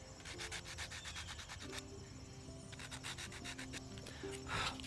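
Sandpaper rubbing over a hand-carved wooden bird, a steady close scratchy back-and-forth rhythm of repeated strokes with no talking.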